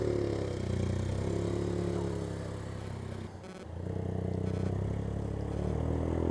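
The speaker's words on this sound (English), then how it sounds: "I do like the sound of an EcoBoost engine." Ford EcoBoost 1.5 litre three-cylinder engine running at a car meet, a steady low droning hum close by that dips briefly mid-way and then returns.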